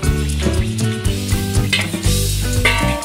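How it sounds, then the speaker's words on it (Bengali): A Bengali-style jackfruit curry gets stirred in a pan as sugar goes into the spice paste with boiled jackfruit, giving close scraping and sizzling with clinks of a utensil against the pan. "চিনিটা দিয়ে এখন নাড়াচাড়া করে আমি সিদ্ধ করে রাখা কাঁঠালটা এটার মধ্যে দিয়ে দেবো"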